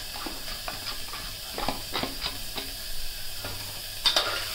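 Paneer cubes frying with turmeric in a pan give a low, steady sizzle, broken by repeated stirring scrapes and light clinks of a spatula against the metal, with a sharper clatter near the end.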